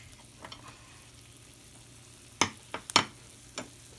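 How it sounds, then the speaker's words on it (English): Pumpkin seeds roasting in hot melted sugar give a few sharp pops and crackles over a quiet low hum, sparse and close, with a small cluster near the end. "You might even hear some popping. That's the sound of the pumpkin seeds."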